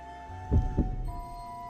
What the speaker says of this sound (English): I can feel my heart pounding loudly.